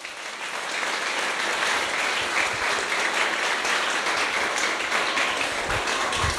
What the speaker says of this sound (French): Est-ce que vous pouvez l'applaudir, s'il vous plaît?